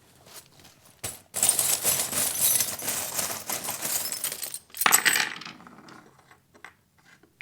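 Small divination charms rattle and clink as they are shaken in the hand, then tumble out in a sharp cast with a brief scatter of metallic chinks before settling into quiet.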